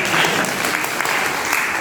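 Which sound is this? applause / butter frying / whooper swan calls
applause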